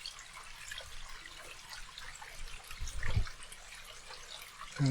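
Water from a small stream trickles and flows steadily in the open air of a village, a soft continuous wash with a slightly louder surge near the end.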